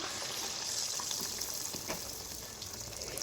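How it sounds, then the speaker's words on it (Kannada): Mangalore buns frying in hot oil, a steady close sizzle and bubbling crackle that runs throughout with no voices. "ಸೊ ಎಣ್ಣೆ ಕಾದಾದಮೇಲೆ ಈ ಥರ ನಾವು ಎಣ್ಣೆಯಲ್ಲಿ ಬಿಡಬೇಕು."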